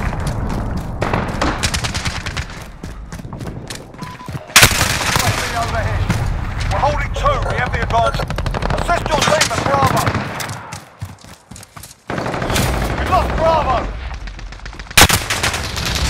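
Called-in fire strike in the Call of Duty Modern Warfare game: dense, loud bursts of rapid gunfire and heavy impacts roll on continuously, briefly dropping away before resuming, with voices calling out amid the din.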